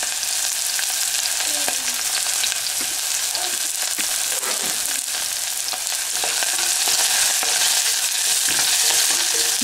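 Chopped onion frying in hot oil for drumstick sambar, a loud, dense, continuous sizzle with occasional stirring scrapes and clatter.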